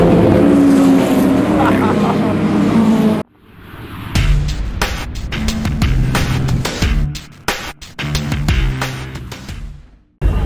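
Classic race cars roar off the line at the start of the 65-class final at Classic Race Aarhus, loud engine noise with revving and gear changes, preceded by a quiet gap and mixed with crowd and commentary voices.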